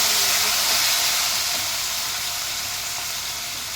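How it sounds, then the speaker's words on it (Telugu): Green chillies and curry leaves sizzle in hot oil for a semolina pulihora tempering: a loud, steady hiss that eases slightly toward the end, with no talk. "పచ్చిమిరపకాయలు, కరివేపాకు వేసుకుందాం."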